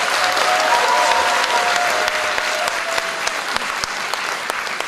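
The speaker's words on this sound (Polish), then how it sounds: "Na początek proszę o brawa dla tych 13 pięknych," A loud, steady crowd ovation at the Miss Ziemi Michałowskiej 2014 beauty pageant as the thirteen contestants are applauded, dense clapping sustained throughout with no voices over it.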